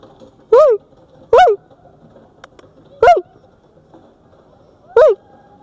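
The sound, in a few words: dhole (Asiatic wild dog) at the zoo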